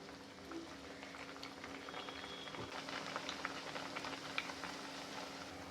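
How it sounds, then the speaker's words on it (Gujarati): Puris deep-fry in hot oil with a soft, steady bubbling fizz, fairly quiet and unbroken, with occasional tiny pops. "હવે તેલ આપણે ગરમ થઈ ગયું છે એમાં નાખી દઈશું પૂરી"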